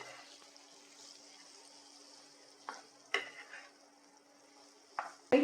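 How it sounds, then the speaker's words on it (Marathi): Stirring and sautéing in a kadhai while making upma, a low steady sizzle with a few sharp spoon scrapes and clinks against the pan, near and without talk. "आता हे चांगले परतून घेऊया."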